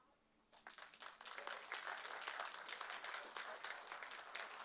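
Applause from the audience at a school board meeting, clapping starting abruptly after a short pause and holding steady at moderate volume, slightly distant in the room.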